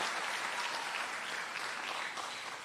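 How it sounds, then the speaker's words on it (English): Sustained crowd applause at a community college commencement, honoring graduates' families: dense, even clapping from a large audience that holds steady throughout at a moderate, somewhat distant level. "let's give your families a big round of applause for what they have done for you"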